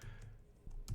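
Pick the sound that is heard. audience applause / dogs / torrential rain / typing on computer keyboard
typing on computer keyboard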